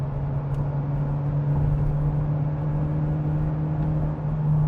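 A Toyota 4Runner TRD Pro hybrid, towing a trailer on the highway, accelerates at full throttle from 70, with a steady loud engine drone and a strong low hum that hold evenly throughout.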